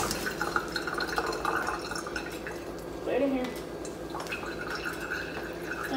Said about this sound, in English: Leave the water running kind of rough.